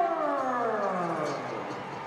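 A sellout crowd roars after a Green Bay Blizzard touchdown against the Frisco Fighters, a sustained, dense wash of cheering that fills the whole stretch and eases slightly toward the end.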